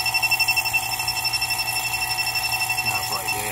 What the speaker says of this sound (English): It beeps no matter what, okay?